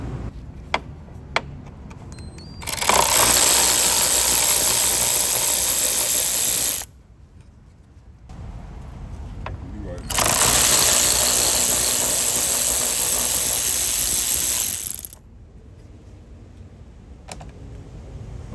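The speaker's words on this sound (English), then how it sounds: "we are going to be removing the 10mm bolt here and the 10mm bolt here." A ratchet wrench loosening 10mm bolts on the front bumper cover of a 2010-2012 Lexus HS 250h, two long, loud, close bursts of rapid clicking separated by quieter pauses, no talking.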